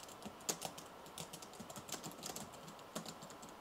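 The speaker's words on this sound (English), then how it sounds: "You can see it's trying to catch up to my typing speed, which is hilarious." Keys clatter in quick, uneven bursts on an old black MacBook keyboard, soft and close, with a few sharper key presses standing out from the steady patter.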